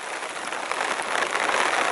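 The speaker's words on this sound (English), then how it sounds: "It's raining." Steady rain hisses on surfaces outdoors beside a polytunnel in the UK, a dense, even wash of droplets that stays loud and continuous with no voices.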